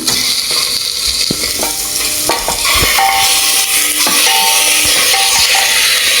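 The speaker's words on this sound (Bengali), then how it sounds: "আমি এতে চিকেনটা দিয়ে দেবো" Marinated chicken hits a hot pan and fries with a loud, continuous sizzle, while a metal spoon scrapes and clinks against the pan in irregular strokes as the pieces are stirred for a chicken stew.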